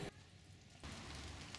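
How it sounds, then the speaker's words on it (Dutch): Steady hiss of rain falling outdoors, a soft continuous patter that drops briefly quieter before returning fuller, with no voices. "Het regent, maar..."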